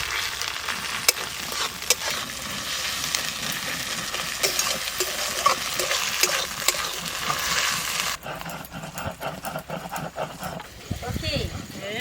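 Ginger and garlic frying with onions in a pan, a broadband sizzle running steadily with stirring clatter and scraping, while someone talks over it throughout.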